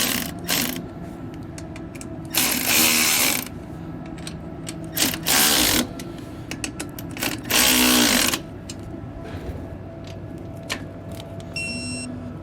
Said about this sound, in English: we're going to be grabbing a 13mm socket here in order to tighten and torque those